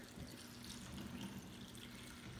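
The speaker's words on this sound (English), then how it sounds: "I am going to add in the water." Water pours into a plastic zip bag holding small plastic animal and bug toys, a continuous, faint trickling fill that runs steadily for a couple of seconds with no talking.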